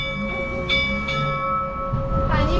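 Church bells rung by hand for Easter clang in several overlapping strikes, sustained metallic tones lingering while faint voices and shuffling sounds carry underneath.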